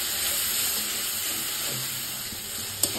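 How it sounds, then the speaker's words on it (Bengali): Spice paste sizzling and frying in hot oil in a pan while being sautéed for a rui fish curry with potatoes, a steady loud hiss throughout with a brief stir clatter near the end. "মশলাটাকে দিয়ে আমি একটু কষবো হালকা করে"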